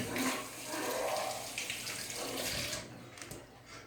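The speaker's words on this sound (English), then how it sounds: "All right, wash my hands again." Water runs steadily from a tap into a kitchen sink as hands are washed between cake-making steps, a soft continuous splash that thins out near the end, with no talking.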